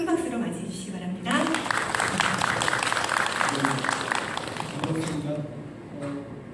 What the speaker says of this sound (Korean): 송형호 선생님 큰 박수로 맞이해 주시기 바랍니다.